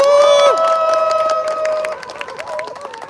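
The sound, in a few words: crowd applauding at a rally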